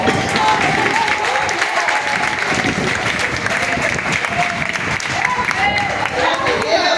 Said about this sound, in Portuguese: Pode aplaudir a Senhor.